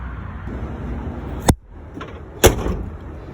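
The door of a 1996 Ford F-150 with a newly replaced latch shuts twice, about a second apart. Each is a sharp, solid close-up thunk with a metallic latch click over a low background hum.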